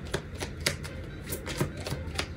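Tarot cards are shuffled by hand in a run of crisp, irregular riffling and slapping bursts, close and fairly quiet, with no talk.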